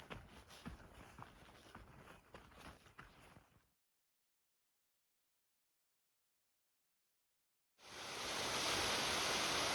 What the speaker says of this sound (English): Came to a pretty cool waterfall.